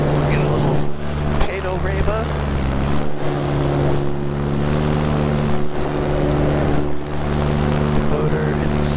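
Electric paramotor motor droning steadily in flight while circling a field, a continuous loud hum with stable tonal harmonics and wind rush, and a voice talks over it.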